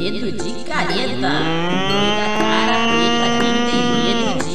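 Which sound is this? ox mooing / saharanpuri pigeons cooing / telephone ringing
ox mooing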